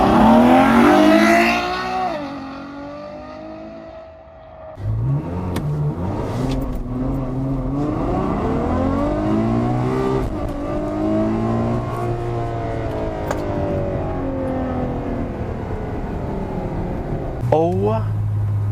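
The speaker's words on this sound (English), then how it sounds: "650 horsepower Ferrari FF launch" A powerful 650-horsepower Ferrari FF engine revs hard and launches in comfort mode, pitch climbing through several gear shifts in rising, loud sweeps.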